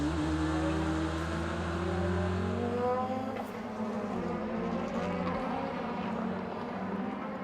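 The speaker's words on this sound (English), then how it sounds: "Little blast of throttle" A DTM race car at the Nürburgring gives a short blast of throttle, its engine note climbing in pitch and then settling, loud and close over steady mechanical drone with no voices.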